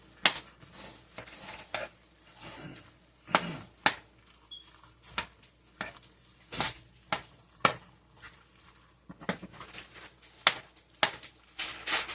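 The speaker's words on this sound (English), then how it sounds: "So you want to mix this all together." A spoon scrapes and clinks against a dish while broth is stirred into a Christmas side dish, giving irregular sharp knocks and scrapes spaced a second or so apart, close and fairly loud, with no talking.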